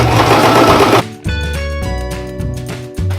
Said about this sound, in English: I'm going to place the overlap over the other side and just going to sew right on that